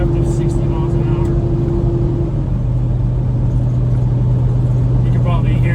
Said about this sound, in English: You can probably hear it. Something over there squeaking.